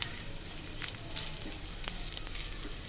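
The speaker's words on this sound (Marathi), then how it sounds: "आता हिंग घालायचं आहे छान परतून घ्यायचं आहे" Onion fries with curry leaves and asafoetida for a cabbage bhaji, giving a soft continuous sizzle close by, with a few light stirring clicks scattered through it and no voices.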